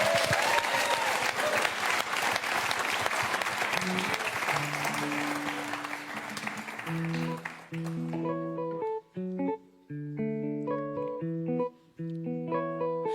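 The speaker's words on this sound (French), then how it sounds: "sous les applaudissements du public en chaleur" Live audience applause and cheering, loud and dense for several seconds before fading as a sung pop track with synth chords takes over.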